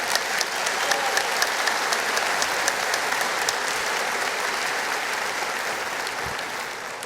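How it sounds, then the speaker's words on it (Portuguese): A church congregation applauds during a sermon, steady sustained clapping from a large crowd lasting several seconds without any speech. "Pode aplaudir."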